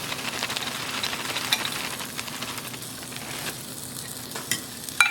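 Chaffle batter with cayenne pepper and about half a cup of crushed pork rinds being mixed in a bowl, a steady scraping, stirring texture with a few sharper clinks near the end, fairly close and with no voices.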